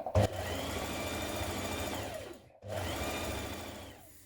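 A domestic sewing machine runs a steady stitching burr along the tie end of a child's dress, pausing briefly before starting up again for a second even run.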